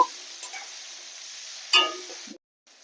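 Eggplant and flower fritters frying in oil give off a steady, close hiss of sizzling, with a brief clatter from the pan before the sound cuts off abruptly.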